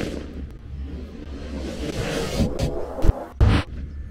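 Native 6-inch firecracker blasts close by, two sharp loud bangs near the end over a low outdoor rumble.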